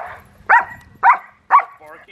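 A dog barks three times in quick, evenly spaced succession, close and loud, followed by a brief whine, with a horse-training session in the background.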